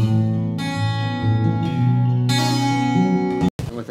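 Acoustic guitar recorded in Logic Pro with the EQ switched off plays ringing strummed chords, full and close, for about three and a half seconds before cutting off.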